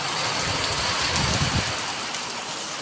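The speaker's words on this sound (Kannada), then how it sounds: "ಮಳೆ ಮಳೆ ಬಂತಲ್ಲ, ಮಳೆ ಮಳೆ ನೀರು ಬರ್ತಿದೆ" Steady, dense hiss of rain falling, loud and continuous throughout, with no voices.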